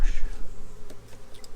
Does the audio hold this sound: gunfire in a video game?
no